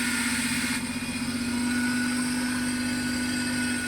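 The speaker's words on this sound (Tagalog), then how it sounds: "ngayon umistart na yung ating makina ayan so wala na yung pamamalya na panginginig" A Suzuki Multicab engine idles steadily after fuel pump work, giving a smooth, even, continuous hum with no stumbling or shaking, heard close and alone throughout.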